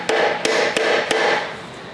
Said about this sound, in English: We like to use a big screwdriver like this and then grab a hammer and tap the back of it.